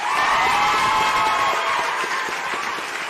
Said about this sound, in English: A round of applause for Nana Banamwa.